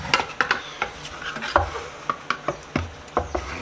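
Metal cans of wood finish, including a semi-transparent gunstock stain, are pried open with small scraping and tapping clicks, a dozen or so irregular sharp knocks and rasps, close and fairly quiet.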